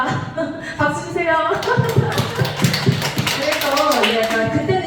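A church congregation claps together, a dense and lively patter of many hands. Voices carry along beneath the applause.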